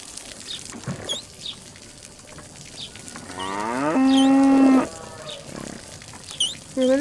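A cow gives one long, loud, close moo partway through. Quieter rustling and faint bird chirps come before and after it.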